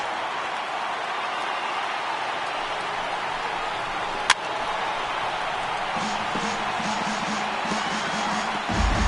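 A baseball stadium crowd of over 39,000 on its feet, a broad sustained roar of cheering with a sharp crack partway through and a lift in noise near the end.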